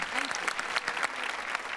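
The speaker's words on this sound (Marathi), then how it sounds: "जोरदार टाळ्या लीना भागवत यांच्यासाठी झाल्या पाहिजे" An audience at a Marathi comedy show gives lively applause for actress Leena Bhagwat, with brisk dense clapping filling the room and no speech over it.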